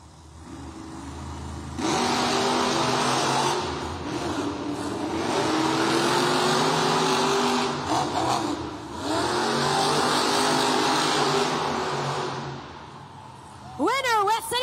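Monster trucks Grave Digger and Monster Mutt Rottweiler race head-to-head at a Monster Jam arena event, with two loud bursts of roaring, revving engines separated by a brief dip, then a short squealing sound at the end.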